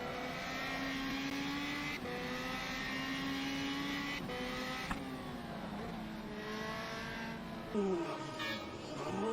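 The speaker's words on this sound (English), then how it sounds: "So here we are at Silverstone, and we are in the BMW M4 Class 1." BMW M4 Class 1 race car at Silverstone in rFactor 2, its engine droning loud and steady with harmonic pitch climbing through gears and short drops at shifts, continuous up close throughout.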